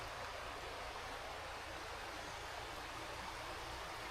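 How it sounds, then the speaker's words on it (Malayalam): A river in Kerala rushes steadily, a dense, even wash of flowing water that holds at a constant level with no voices. "ഇതൊരു പുഴയാണ്."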